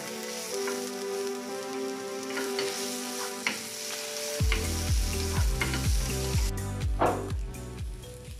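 Vegetables and smoked tofu sautéing gently in a pan, a steady close sizzle and crackle running under music with a bass line, with a few soft utensil taps.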